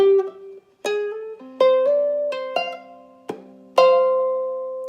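Plucked ukulele notes ring out in a quick riff, single notes and bright strums following one another at a brisk pace, close and clear.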